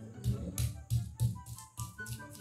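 Repeated dull thuds of garlic being pounded in a mortar, about six or seven heavy strikes in a loose rhythm, close and fairly loud.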